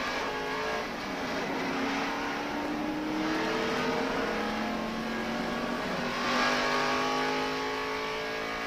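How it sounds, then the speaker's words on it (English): NASCAR race car at Daytona in 1993 accelerating out of the pits, a loud sustained engine roar with rising pitch as it comes back up to speed, dense and continuous. "Here he is coming up to speed, running around the flat part of the racetrack, getting it back up to speed."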